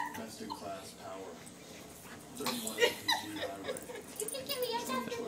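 A corgi puppy and a rat terrier play together, giving soft whimpers and small yips amid shuffling, with people chuckling and talking nearby throughout.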